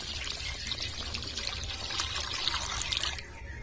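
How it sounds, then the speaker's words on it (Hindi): Water poured into frying tomato masala in a pan, a continuous close pouring and splashing hiss with crackling over a low background hum, easing off at the very end; no talking. "रस के लिए हम इसमें पानी डाल देते हैं"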